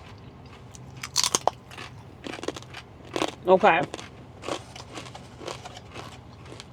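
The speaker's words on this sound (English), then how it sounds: "I'm getting a crunch" Crunchy snack pieces, probably potato chips, are bitten and chewed close to the mic at a roadside pitstop, with a few sharp crunches standing out amid quiet talk.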